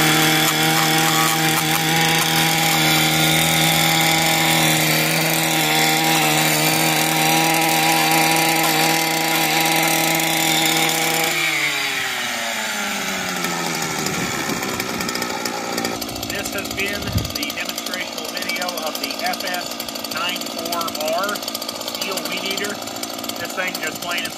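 A Stihl weed eater fitted with a steel brush-cutting blade runs loud and close at a high steady whine for about eleven seconds. The engine then drops and wavers at lower revs while the blade catches on material.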